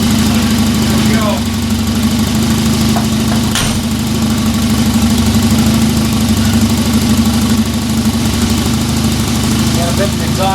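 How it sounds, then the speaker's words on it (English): A 1994 Volvo 940 Turbo wagon engine idles with an exhaust leak near the turbo, giving a steady, loud, close rumble with a constant hum and faint ticking, while people talk over it. "Got a bit of exhaust leak over here in the turbo area. Not a real big surprise there. You can actually hear it"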